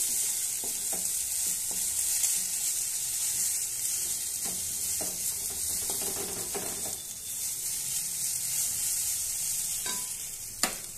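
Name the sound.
frying neem leaves and potatoes on high flame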